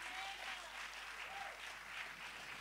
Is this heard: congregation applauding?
yes